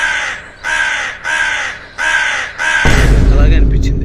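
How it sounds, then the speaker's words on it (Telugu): Crows caw in four loud, evenly spaced harsh calls in the Paradise teaser, cut off by a burst of dense noise. "సో ఆ కాకి గోల,"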